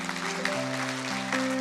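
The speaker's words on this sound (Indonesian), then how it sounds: "boleh berikan tepuk tangan buat Tuhan." Church congregation clapping in praise, a moderate wash of applause mixed with sustained held musical tones from instruments playing underneath.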